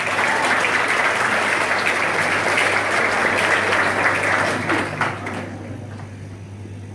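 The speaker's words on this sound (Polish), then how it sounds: "Wielkie brawa, wielkie brawa!" Loud, sustained applause from a crowd at a school ball, dense clapping that holds steady for several seconds before thinning out toward the end.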